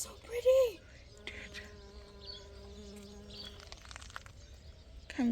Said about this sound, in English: There's a bee as well.